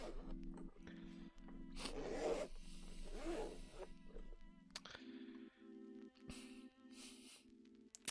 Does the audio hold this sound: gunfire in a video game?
no